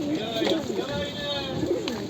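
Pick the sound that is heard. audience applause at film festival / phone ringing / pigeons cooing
pigeons cooing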